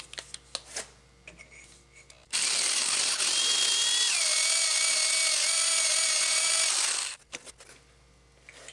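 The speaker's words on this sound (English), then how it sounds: "I'm about to hole saw it out some more." A hole saw cuts through a 3-inch steel cap plate while building an oil catch can: a steady, close, loud grinding whine of about five seconds, its pitch dipping midway as the teeth bite, with no voices.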